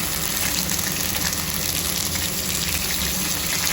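Taro stolons (kochur lati) tossed into a pan of fried garlic set off a loud, steady hissing sizzle that stays even for several seconds, close and without talking.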